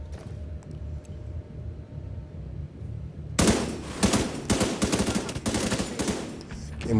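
Mounted machine gun firing in the video game The Division 2, with a quiet stretch broken by sudden loud, rapid bursts of automatic fire that repeat in sharp clusters to the end.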